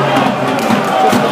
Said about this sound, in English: Big crowd again.